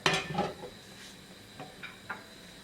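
A fry pan is set down and handled on a stove burner, with a sharp metallic clank at the start and a few lighter knocks and scrapes after it, all close by.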